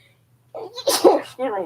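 A woman sneezes once, a sharp, close burst after a quiet moment, with a brief voiced sound right after it.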